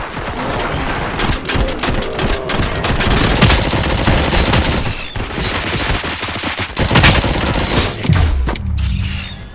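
Loud, dense bursts of automatic gunfire fill a firefight in the Robocop Rogue City video game. Rapid shots overlap with booms and mechanical clatter throughout, with no talk heard.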